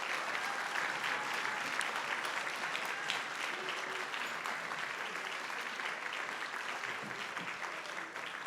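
Sustained applause from a concert audience for the chamber choir and concert choir at a spring cabaret, a dense even wash of clapping that holds for several seconds.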